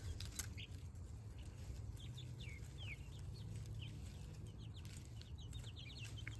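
Faint Ameraucana and Leghorn chickens, four and seven weeks old, cluck and peep in short, scattered calls over a low steady hum, sounding a little distant.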